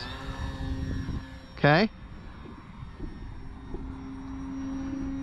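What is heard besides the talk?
FMS PA-18 Super Cub RC airplane flying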